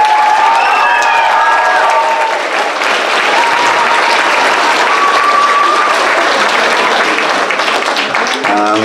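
An audience applauds and cheers at a school Transition Year variety show, a loud, sustained wash of clapping with a few whoops, and faint voices mixed in.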